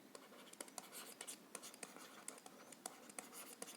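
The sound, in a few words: writing on a board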